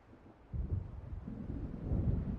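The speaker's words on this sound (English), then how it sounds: "It seems there's a storm coming." A low, rolling rumble of an approaching thunderstorm in the video game Alan Wake swells in after a quiet start and keeps growing, faint and distant, with no voices.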